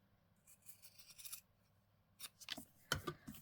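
Scissors cutting through a creased paper craft tag, a few quiet crisp snips and rustles close by, with two short bursts of cutting separated by a near-silent pause.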